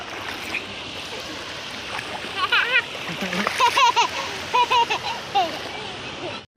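Water in a village river splashes and gurgles nearby in an irregular, continuous wash, with children's voices chattering over it.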